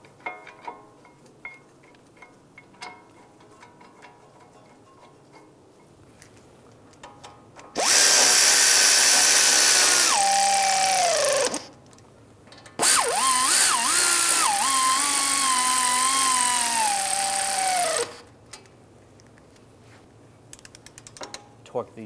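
Power drill driving the caliper bracket bolts on a 2013-2016 Dodge Dart front brake, two loud whirring bursts of several seconds each with a slowing pitch as each bolt seats, close by in a quiet garage.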